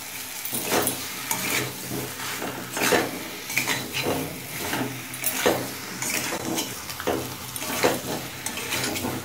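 Salted yam (ol) being stirred in a frying pan over medium heat, with a steady sizzle and repeated scraping strokes of a spatula against the metal pan, close and alone.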